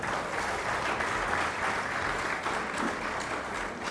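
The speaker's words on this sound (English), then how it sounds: "A big round of applause for her." A large crowd applauds steadily for several seconds, a dense, continuous wash of clapping without pauses or voices.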